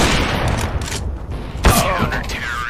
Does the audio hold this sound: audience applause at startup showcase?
no